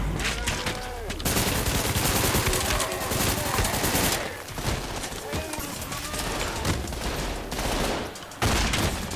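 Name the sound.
gunfire in the video game Trepang 2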